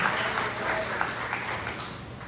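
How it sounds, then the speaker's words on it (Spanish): Church congregation applauding during a worship service, a brief, moderately loud patter of many hands clapping at a steady level with a few sharper claps standing out. "Den un fuerte aplauso al Señor."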